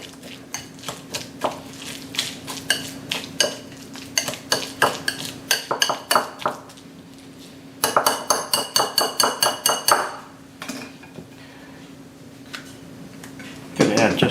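A utensil stirs and scrapes in a bowl while taco fixings with sour cream are mixed, giving bursts of rhythmic clinking and tapping with pauses between them, close up and moderately loud.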